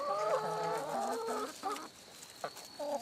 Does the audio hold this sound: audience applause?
no